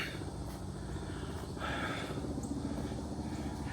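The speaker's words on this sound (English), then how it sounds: "A helicopter riding over now." A helicopter's rotor thrum drones steadily overhead, moderately loud and continuous, with faint outdoor ambience and no speech.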